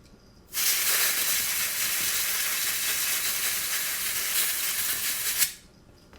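A compressed air can blasts a single continuous hiss for about five seconds up close, starting and stopping sharply against an otherwise quiet room.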